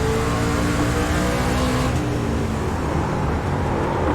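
Race trucks roar as they accelerate together at the green flag at Thompson, a dense, loud engine wail that climbs in pitch and then settles into a sustained broad rush.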